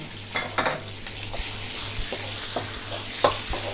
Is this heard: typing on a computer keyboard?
no